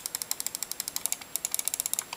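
A Microsoft Intellimouse Optical mouse button is clicked rapidly over and over. The sharp, fairly loud clicks come close up in a quick, slightly uneven rhythm, roughly twenty of them in a row, with no voices.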